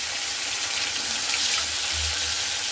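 Pieces of shol fish (snakehead) fry in hot oil with a steady, even sizzle and faint bubbling, close and continuous with no talking.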